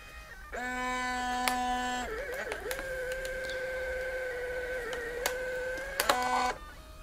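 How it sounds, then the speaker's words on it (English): A Fujifilm Instax Share SP-1 printer runs its print cycle to eject a blank film sheet, giving a steady electronic tonal whine that shifts pitch partway, with small mechanical clicks and a final burst of motor noise as the sheet exits. "if I shut this, the first one that prints out should be a blank"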